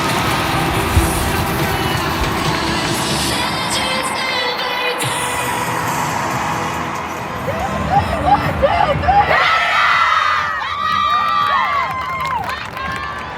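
A large crowd at BC Place stadium roars and cheers steadily for a Canada women's football team match, with whistles and shouts rising out of the din and voices talking over it.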